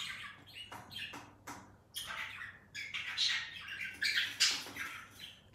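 A pet bird squawks in a series of short, harsh calls, close and fairly loud, with a voice speaking softly around them.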